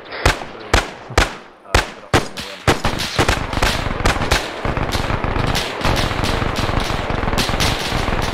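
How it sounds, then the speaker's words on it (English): An MG42 machine gun firing in a World War II combat game: a few separate loud shots at first, then a long, dense, continuous ripping burst that stays loud and close to the end. "be advised, Grub's got an MG42"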